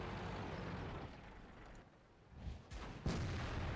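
Artillery shells from a Hobbit SPG strike a tank in World of Tanks, a couple of muffled impacts with a sharper crack near the end over a rumbling battlefield bed.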